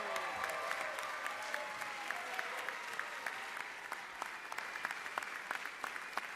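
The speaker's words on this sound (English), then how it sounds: "Let's give them one more round of applause" Members of the Georgia House of Representatives applaud in the legislative chamber. The clapping is fairly faint and distant, with a few sharp, closer claps standing out and a low murmur of voices beneath.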